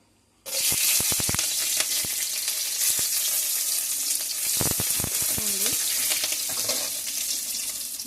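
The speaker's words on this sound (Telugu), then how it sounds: "మీరు ఏం చేస్తారంటే అందులోని ఎండుమిర్చి పచ్చిమిర్చి వేసుకోవాలండి" Dried red chillies and green chillies hit hot oil in a pan for a ridge gourd chutney, bursting into a loud steady sizzle with crackles and occasional stirring clinks, close and without talk.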